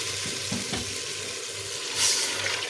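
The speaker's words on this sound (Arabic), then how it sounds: "هنزل عليه بقى بالمية" Water pours into a hot pot of vegetables that are being prepared for basmati rice, giving a steady hissing, sizzling wash that swells briefly near the end, with no voices present.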